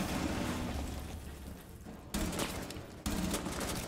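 Gunfire in the Rainbow Six Siege video game, with a dense rumble of shooting and impacts followed by two sharp, loud bursts of rapid fire near the end.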